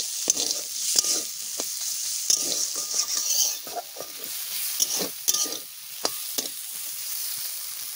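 Dhenki greens frying in a pan, a steady hiss of sizzling oil broken by repeated scraping and clacking of a spatula stirring against the metal, close and continuous with no talking.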